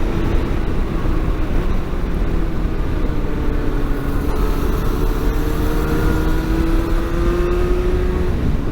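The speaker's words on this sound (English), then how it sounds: "The sound of the engine is fantastic. It's a smooth fuel-injected 4-cylinder." A Yamaha FZ6 motorcycle's smooth fuel-injected inline four-cylinder engine drones steadily throughout, loud and close, with a gently rising pitch as it accelerates and no voices.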